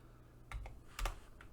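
Keystrokes on a computer keyboard while coding a bird sprite for a game, a few quick clicks in two small bursts, close and fairly quiet with no talking.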